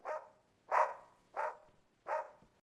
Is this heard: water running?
no